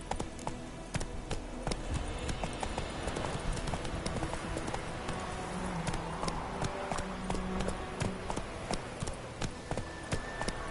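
Roach, the horse in Witcher 3, gallops in a steady rhythmic clip-clop of hooves, loud and close, running continuously without pause.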